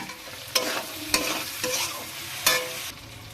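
Potatoes and onions fry in a pan with salt and turmeric while a spatula stirs them, giving a steady sizzle broken by four sharp scraping strokes at uneven intervals, close and without voices.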